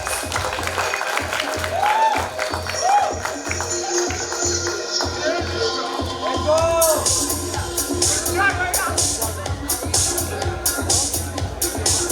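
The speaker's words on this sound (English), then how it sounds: "Guys, clap." An audience at an esports league prize ceremony claps for the winners, a steady spread of scattered clapping mixed with crowd chatter and voices, with some whoops and whistles.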